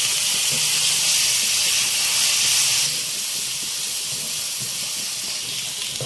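Grated onion fries in a pan for dhaba-style fried mash dal, giving a loud, steady, close hiss of sizzling oil that eases slightly partway through, with no talking.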